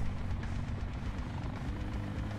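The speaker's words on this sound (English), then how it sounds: "a helicopter hovers above them" A helicopter hovers overhead above a crowd, producing a steady, faint, rumbling rotor wash that holds without a break and with no clear voices.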